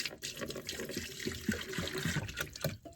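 Water poured from a big jug into a kettle for tea inside a campervan, a steady gurgling pour with splashes lasting the whole stretch, close by and moderately loud.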